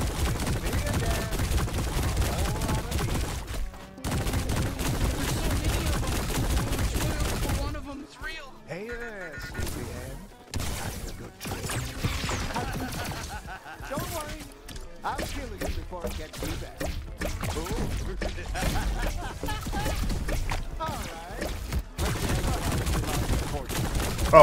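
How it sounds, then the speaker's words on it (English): Video game gunfire from the player's weapon in High On Life: dense, sustained bursts of shots and crashing game effects run loudly for most of the stretch, with a short quieter break and a voice talking underneath. "Oh, I could shoot a gun?"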